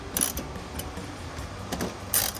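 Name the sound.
tightening bolts on a cold air intake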